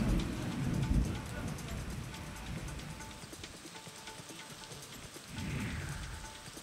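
Monsoon rain falls steadily across Buldhana district in Maharashtra, a broad hiss with heavier gusts at the start and near the end, over a low rumble and faint background noise.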